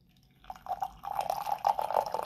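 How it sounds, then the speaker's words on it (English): Pink summer passion breeze tea is poured into a cup, a steady trickle that grows fuller and splashier as the cup fills, close and alone without talk. "I'm gonna go ahead and pour some of this out real quick for you"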